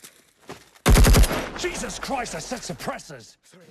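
Gunfire from a soldier's small, quiet-sounding gun in a zombie film: a loud burst of several rapid shots, then dramatic music and movement sounds carrying on behind.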